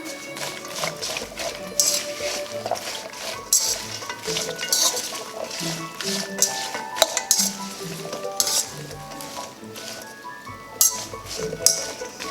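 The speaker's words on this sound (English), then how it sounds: "I'll give it a stir" Steamed green beans and salt being stirred in a pot: repeated metallic clinks and scrapes of a utensil against the pot in an irregular rhythm, close and fairly loud, with no talking.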